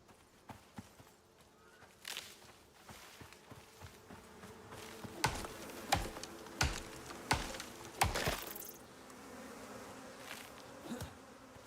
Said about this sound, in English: Did I just hear bees?